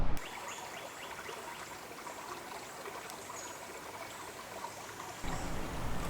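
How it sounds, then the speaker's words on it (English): A steady trickling and gurgling of a small creek running over tree roots on a nature trail, constant and moderately quiet, with no voices. "the creek running over tree roots"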